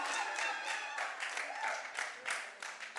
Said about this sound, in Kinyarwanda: reka dukoma amashyi